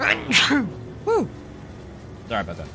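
A single sharp sneeze bursts out loudly and close during a live gameplay session of Bleak Faith: Forsaken, followed by a person talking briefly.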